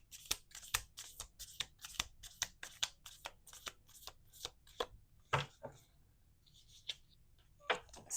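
Close, crisp shuffling of an oracle card deck: rapid papery slaps and riffles at first, then slower isolated snaps with pauses toward the end.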